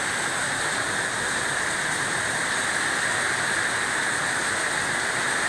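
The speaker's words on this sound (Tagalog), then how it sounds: "Ang lakas-lakas ng buhos ng ulan ngayon dito" Dense, steady roar of heavy rain pouring down at night in Dasmariñas, Cavite, Philippines, constant and loud with no breaks or voices.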